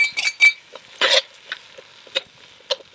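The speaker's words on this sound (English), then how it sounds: "Get that kind of sauteing up in there." Diced potatoes and minced garlic sauteing in a pot over a campfire for Brunswick stew, heard as intermittent stirring scrapes and metallic clinks over a faint, low sizzle, with no talking.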